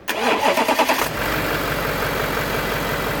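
A Porsche Cayenne 4.2 diesel engine with a faulty turbo actuator and clogged particulate filter cranks with a few rhythmic turns, then catches and settles into a steady, rumbling idle, heard up close.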